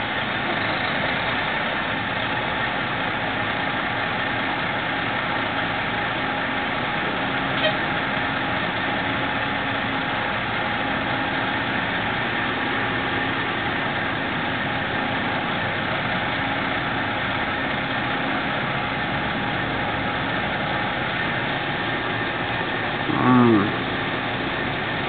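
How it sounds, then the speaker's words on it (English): A generator engine runs at a carnival, giving a steady, even idling drone that holds through the whole stretch without talk, with one brief louder sound near the end. "And we have another generator."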